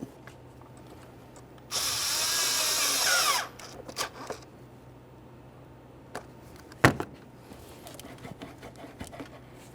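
Power tool spinning an 8mm socket on intake manifold bolts of a 2012-2018 Nissan Altima 2.5L four-cylinder, one loud whirring burst of nearly two seconds followed by scattered clanks and knocks nearby.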